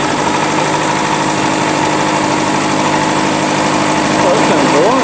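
Old BSA sports trike, unused for over 30 years, running at a steady idle, a loud close engine drone with a slight rise in revs near the end.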